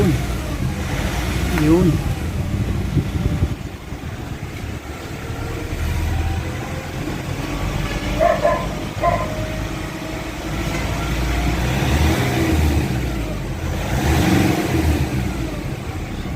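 A Nissan Calibre with a throttle delay and a humming transmission, its engine revving steadily and droning throughout, with talk over it.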